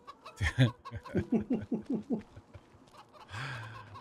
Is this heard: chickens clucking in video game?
yes